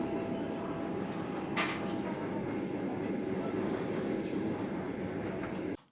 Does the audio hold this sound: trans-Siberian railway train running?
yes